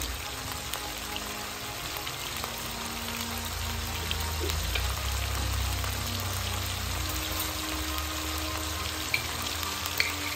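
Steady, busy sizzling of garlic-ginger paste frying in hot oil in a pan, crackling continuously and close up, with occasional faint stirring clicks.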